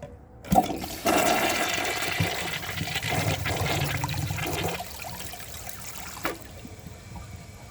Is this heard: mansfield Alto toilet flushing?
yes